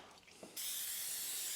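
Avocado oil cooking spray hisses onto a baking dish in one short, steady burst, close and fairly loud, following a moment of quiet kitchen handling.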